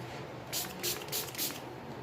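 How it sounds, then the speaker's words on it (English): Four quick bursts from a spray bottle misting water onto thick crafting paper for a paper gerbera flower, evenly spaced and close, over faint room noise. "we have to spray some water"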